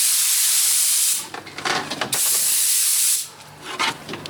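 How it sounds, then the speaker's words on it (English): An aerosol spray can is sprayed over a cleared workshop desk while preparing to paint mini bike parts, giving two close, loud hissing bursts of about a second each, separated by quieter rustling. "just spray it down with a."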